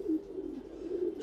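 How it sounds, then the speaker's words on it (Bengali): A pigeon coos nearby, a soft, throaty, rolling call that runs continuously through the short moment, with no other voices. "এই কবুতরটা ডাকতেছে"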